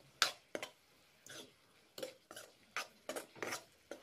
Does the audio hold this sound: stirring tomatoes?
yes